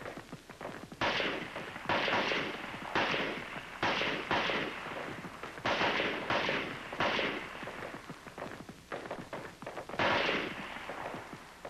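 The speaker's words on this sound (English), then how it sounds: "For your rapid fire zero, you fire 3 groups of 3 rounds each. Followed by a string of 10 rounds." An M14 rifle fires in quick groups of sharp, loud reports during rapid-fire zeroing, shots coming in short clusters with brief gaps between them.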